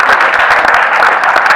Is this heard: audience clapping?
yes